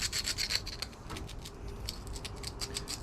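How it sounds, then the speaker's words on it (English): Doubled-over emery cloth rubs burrs and loose edges off diesel injector cups from a 2000 Ford F-250. The rasping comes in quick, rhythmic back-and-forth strokes, close and fairly quiet, with a short pause partway through. "I'm just doubling over some emery cloth, just trying to take any burrs and loose edges off"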